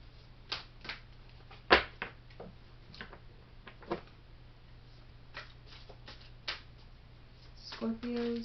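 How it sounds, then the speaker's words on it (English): Soft, intermittent tarot card shuffling with scattered light snaps and taps at close range over a faint hum, ending in a brief voice. "Cards are a little jumpy, but nothing too certain yet. Just going to keep on shuffling."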